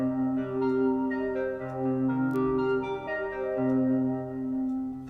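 Sequencer running on the Modal 002 synthesizer, a steady stream of rich, buzzy synth notes shifting pitch in a repeating pattern, continuous and fairly loud with no voices.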